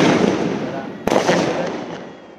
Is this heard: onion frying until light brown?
no